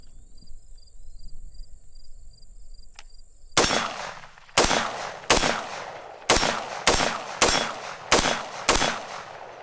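A rifle with a 20-inch upper fires .223 lead-free ammunition in seven sharp, loud, close shots at uneven intervals, each ringing off with a short decaying echo after a quiet stretch with faint insect buzz.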